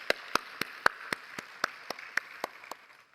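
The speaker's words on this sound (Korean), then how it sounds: "우리 격려의 박수를 한번 좀 보내주시죠." A church congregation claps for a youth praise team at a Sunday worship service: about a dozen sharp, evenly spaced claps in a steady rhythm, fairly faint and distant with a light roomy background.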